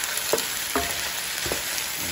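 Pork leg (pata ng baboy) sautéing in a pan, a steady close sizzle with a few scraping stirs at intervals, no voices.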